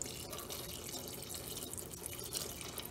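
Water is poured steadily for brewing mead, a continuous close splashing stream without pauses, no voices over it.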